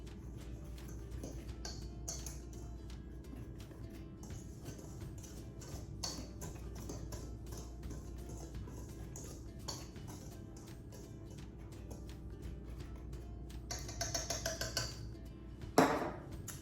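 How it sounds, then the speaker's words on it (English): A utensil ticks and clinks steadily against a bowl as baking soda and salt are mixed together, with a faint repetitive scraping rhythm that ends in a few louder taps. "I'm going to mix this together a little."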